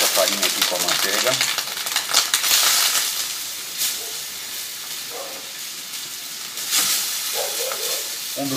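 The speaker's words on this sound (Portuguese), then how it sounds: "essa farinha frite na manteiga, que ela chega a ficar até um pouquinho dourada" Flour frying in butter for a béchamel roux, with a continuous hissing sizzle and bursts of scraping as it is stirred in the pan.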